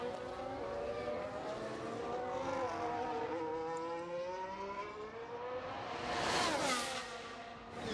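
Race cars speeding around the Bahrain circuit in the F1 Manager 2022 video game, a continuous engine whine that climbs and falls in pitch, swelling loudest near the end as a car passes close.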